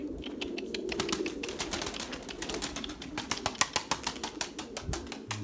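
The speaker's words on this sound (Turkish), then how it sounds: "Yem atıyorum havaya kalkıyorlar arkadaş." A flock of pigeons bursts into flight, a dense rapid flutter of many wings clapping and whirring, close by and continuous without any voices.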